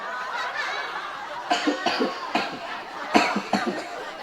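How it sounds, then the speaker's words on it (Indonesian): Several harsh coughs in quick succession, close and fairly loud, over a steady background murmur. "Batuk."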